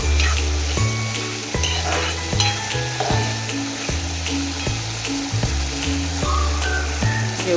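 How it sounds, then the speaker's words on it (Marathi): Guar beans sizzle and fry steadily in hot oil for a quick gavar bhaji, a dense crackling bed with a rhythmic low stirring pulse, close and continuous with no voices. "चांगली गवारला शिजवून घेणार तेलात"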